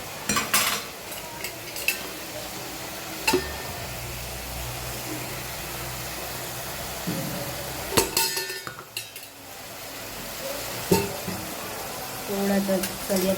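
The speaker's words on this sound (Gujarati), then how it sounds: "થોડા તળિયાતા મસાલા કરીશું તો ટેસ્ટ સારો આવશે." Spices sizzle in hot oil with cauliflower for a curry while a spoon stirs and clinks against the pan, a steady low frying hiss beneath scattered scrapes and taps, with a person talking over it.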